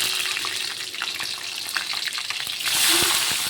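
Green chilies and onion frying in hot oil with mustard seeds and fennel, a dense, constant close sizzle with small crackles throughout, swelling louder near the end.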